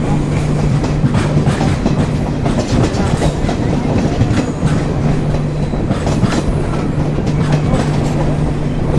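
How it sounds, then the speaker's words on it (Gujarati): An Intercity Superfast Express train rumbles steadily into Thangadh station with rhythmic clickety-clack of wheels on rails, loud and close, with a low droning hum throughout. "થાનગઢ જે સ્ટેશન છે ત્યાં આપણી ગાડી આવી ગઈ છે"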